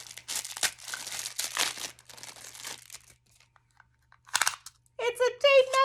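Crinkly plastic packaging around a tape measure being torn and crumpled open by hand, with several close, rustling bursts of crackling; someone speaks near the end.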